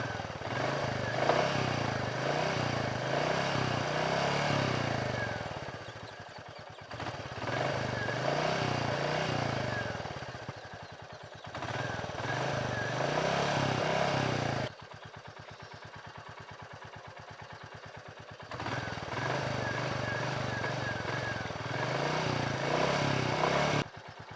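A Royal Enfield Meteor 350 motorcycle engine revved repeatedly from idle, steady throbbing rises and falls in several bursts, close and moderately loud, heard alone.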